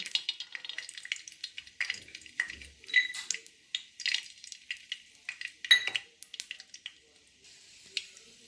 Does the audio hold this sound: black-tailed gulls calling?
no